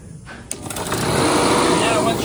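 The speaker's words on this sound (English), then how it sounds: "All right, now you can go ahead, you can turn on the vacuum pump." An HVAC vacuum pump switches on with a click and spins up into a loud, steady mechanical drone that stays constant to the end.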